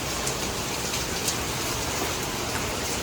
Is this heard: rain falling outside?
yes